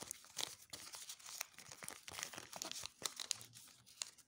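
A plastic sticker packet is torn open by hand, giving a run of sharp crinkling and tearing crackles in irregular bursts, close to the microphone and fairly quiet, with no voice over it.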